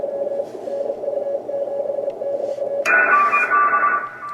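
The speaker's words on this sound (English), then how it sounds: "the 500 Hertz position cuts that signal down to the point where we can actually hear only one station" A Drake TR4C radio receives a single station through its 500 Hz filter, giving steady tones over a faint hiss. The signal steps up to a brighter, louder tone partway through, with no voices.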